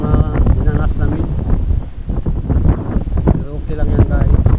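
Cold wind buffeting the microphone on a boat heading out on a fishing trip, loud rumbling gusts that swell and ease, with someone speaking over it.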